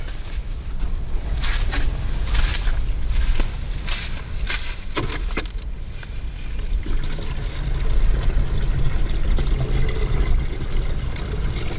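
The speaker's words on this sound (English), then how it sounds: "Pour this out again." Liquid poured out of a film developing tank after the stop bath, a steady trickling and splashing close by over a continuous low rumble of wind or outdoor noise in a desert setting.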